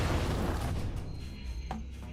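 Fireworks in the video game Bound by Flame: a rumbling boom followed by a sharp crackling pop near the end, loud against dense background noise.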